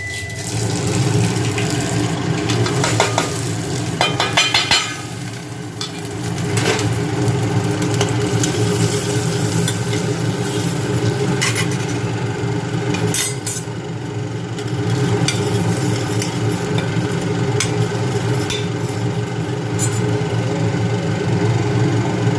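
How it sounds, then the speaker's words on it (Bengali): Spices tempering in a small amount of hot oil in a pressure cooker over a gas flame, a steady low sizzle and hiss with occasional crackles, close and constant, with no talking. "এর মধ্যে ফোড়নটা দিয়ে ফোড়নের গন্ধটা বেরোলে ডালটা দিয়ে দেবো"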